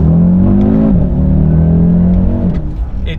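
An Audi RSQ3 Sportback on its stock exhaust with OPF filters revs loudly and close, a steady rasping engine note that dips briefly and climbs again, then eases toward the end.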